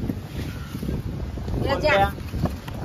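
Strong wind at Arnala beach buffets the microphone with a continuous rough rumble while people talk in the background.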